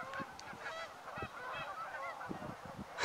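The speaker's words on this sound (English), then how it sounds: "those geese over there, I'm not sure if you can hear them. They're really going at it." Geese honk repeatedly from a distance at Stafford Lake, a lively, overlapping chorus of calls over a faint outdoor background.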